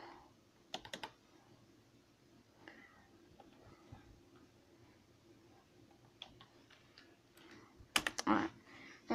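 Keys on a computer keyboard clack in short, quick bursts, with a brief flurry near the start and a busier run toward the end over a quiet room hum.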